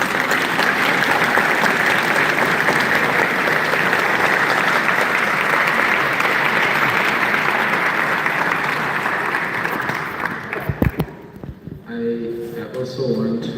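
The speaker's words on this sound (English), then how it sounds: "give you a very warm round of applause for what you do" An audience at an academic gathering with faculty present gives a warm, sustained round of applause, loud and full for about ten seconds before tapering off as a voice begins speaking.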